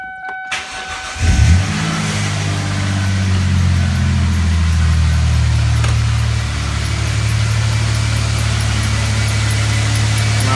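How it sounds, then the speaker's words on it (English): A 2000 Lincoln LS with a manual transmission cranks briefly and fires up, then settles into a steady, loud, close idle that runs uninterrupted for several seconds. "So mine's a stick shift, so I gotta actually push my clutch in to get it to start."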